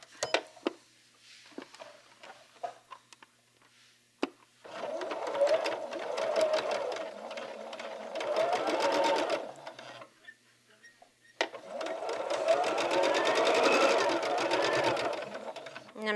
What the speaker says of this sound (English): I'm just also making sure that I am sewing right above this point here.